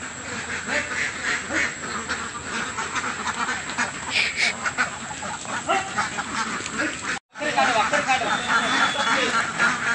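A flock of farm ducks quacks repeatedly while being herded up a ramp onto a trawler boat on a river char, a busy, overlapping chorus close by with people talking over it.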